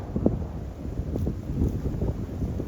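Steady wind buffeting a microphone outdoors in a valley with mountains and a river, a low rumbling roar with gusty bursts throughout, no voices.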